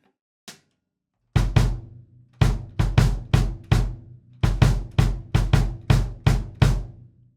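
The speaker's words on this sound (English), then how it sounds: "Now let's put the snare wires on and hear the drum again" A Gretsch Energy drum struck with the snare wires engaged, one faint tap followed by a dozen loud, close, evenly spaced hits, each with a short buzzy decay, no talking.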